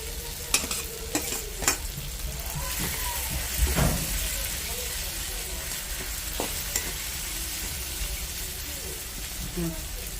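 A spoon scrapes and stirs fried onion into a thick spice paste in a pan for a kachki fish curry, with a steady background sizzle and occasional sharper clinks.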